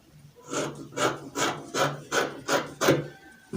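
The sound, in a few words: trimming fabric with scissors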